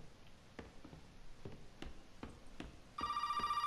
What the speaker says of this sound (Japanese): ああ、電話鳴ってる。